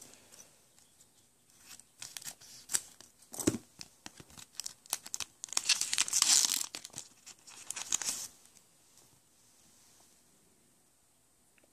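A Pokemon booster pack is torn open by hand, with crinkling foil and sharp tearing bursts that peak in the middle, then fade to quiet.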